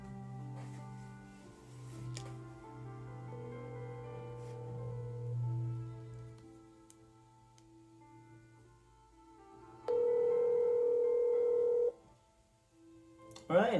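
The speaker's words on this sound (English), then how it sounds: "let's make our first phone call and see if we're back in business" Outgoing call on a Google Pixel 3a after a screen replacement, a low hum followed by a steady two-second ringing tone and a short burst at the end, moderately loud with no speech.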